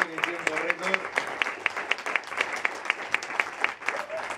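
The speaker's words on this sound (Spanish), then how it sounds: "Y un aplauso para José, que nos acaba de hacer una presentación." An audience at a blogging event in Spain gives a round of applause, with a steady patter of clapping and some sharp individual claps, while a voice talks briefly over the start.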